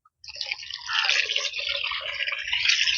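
Water pours and splashes steadily into a pot planted with a water lily at a home garden, a continuous close, fairly soft trickling without any talk.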